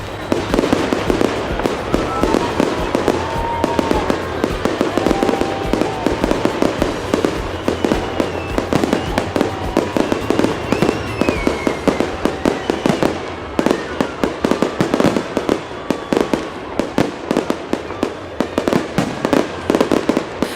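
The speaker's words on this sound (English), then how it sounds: "The fireworks start at 10 o'clock in the evening, and this magnificent performance lasts during 10 minutes." Dense, continuous bursts of fireworks at an evening Victory Day celebration in Fryazino, Russia, with rapid crackling pops and booms layered over a rumbling backdrop, loud and sustained throughout, with faint crowd voices beneath.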